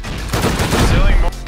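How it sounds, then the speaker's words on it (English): Turret gunfire in the video game Rust, a loud, dense burst of rapid automatic shots over about a second, heard close, with a voice talking over part of it. "Oh my god, turret's right there. They're shooting in."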